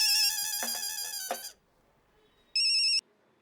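Telephone ringing heard over a speakerphone: electronic ring bursts, a long first ring and then a short one after a pause, clear and moderately loud in a quiet room.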